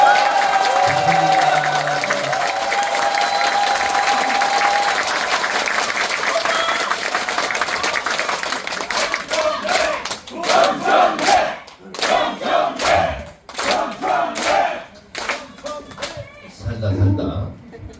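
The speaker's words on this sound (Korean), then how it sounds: "이 정도 박수를 받고 강연한 적이 없습니다" Party members at a Daegu members' meeting for a party leadership candidate clap and cheer loudly in a packed hall, a sustained roar of applause and shouts that breaks into bursts and then fades as talking resumes.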